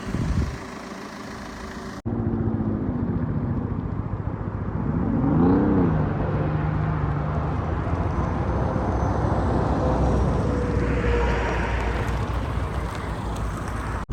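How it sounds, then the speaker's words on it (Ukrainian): A Citroen DS5 2.0 HDI diesel engine hums steadily from inside the car while driving, with low road rumble and a rising and falling engine tone partway through. "Зараз зробимо невеличкий тест-драйв машиною ще."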